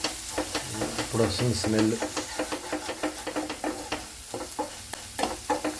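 Ground spices, including coriander powder, sizzle in a pan as they are stirred, with a steady frying hiss broken by repeated scraping strokes; a voice talks over part of it.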